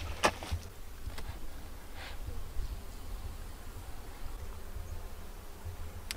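Honey bees hum steadily at an open backyard hive during an inspection, a low continuous drone with a few sharp clicks from handling and no speech.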